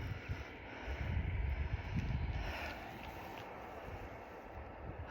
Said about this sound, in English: That's the sound of the cable car.